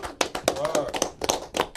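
A small group of people clapping in quick, uneven bursts, sharp close hand claps scattered over a little under two seconds with voices mixed in.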